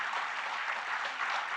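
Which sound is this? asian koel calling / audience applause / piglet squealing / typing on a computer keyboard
audience applause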